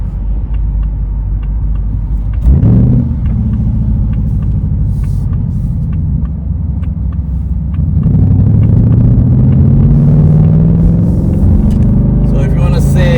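Ford Mustang GT California Special 60th Anniversary convertible engine heard from inside, a loud low drone that climbs into a rising, hard-revving roar toward the end, with someone talking over it.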